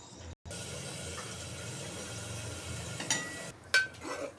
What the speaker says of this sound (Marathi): मिश्रण चांगले हलवून चांगले परतून घ्यायचे आहे.